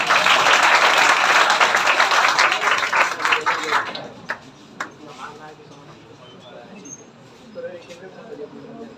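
Loud applause for a student named Swati at a toppers' award ceremony, a dense burst of clapping from a large crowd that fades after about four seconds into scattered claps and room noise.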